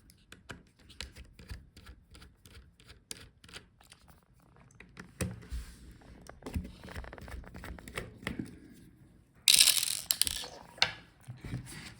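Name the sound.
unscrewing screws on a Dell Inspiron 16 5640 laptop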